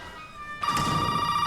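An in-game telephone rings in the survival horror game Resident Evil 7, a bright electronic trill that starts abruptly partway through and continues loud and steady, with no voices over it.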